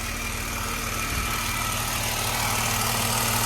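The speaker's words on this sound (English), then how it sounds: "Brake on, running about 900 RPMs at idle." A BMW Z4 engine idles steadily at about 900 RPM with a low, even hum and a faint vibration, close and continuous with no voices.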